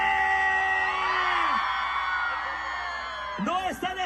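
A concert crowd on a beach at Playa del Carmen whoops and yells together in a loud, sustained roar, trailing off before a fresh burst of shouts rises near the end.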